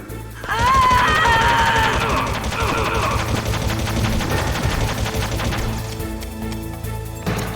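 Gunfire crackles in Metal Gear Solid on the PlayStation, a stream of rapid shots and impacts lasting several seconds under game music and voices.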